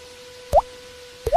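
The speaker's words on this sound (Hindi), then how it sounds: "झोंपड़ी की छत से पानी टपक रहा था" Cartoon sound effect of water dripping from a hut roof: two separate, bright plopping drips about a second apart over a faint steady hum.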